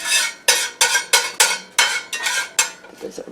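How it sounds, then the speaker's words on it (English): A spatula scrapes and clatters against a pan in quick, regular strokes while shredded beef stir-fries in sesame oil, loud and close with about eight distinct scraping bursts. "My favorite spatula for stir frying."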